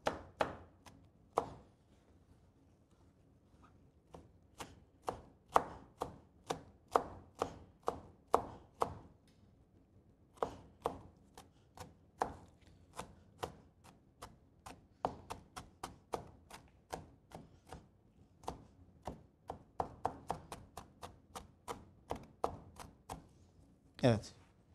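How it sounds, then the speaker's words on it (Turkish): A knife chops peppers on a cutting board in a Turkish kitchen, a long run of quick, crisp, evenly paced strokes close by, with brief pauses between bursts and no talking. "Biraz daha şöyle doğradıktan sonra biraz daha inceltebiliriz."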